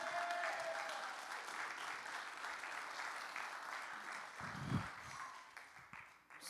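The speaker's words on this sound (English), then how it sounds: "Let's give the worship team a round of applause." A church congregation at a Christmas-season service applauds the worship team, a steady wash of clapping that holds at moderate volume, heard somewhat at a distance and tapering near the end.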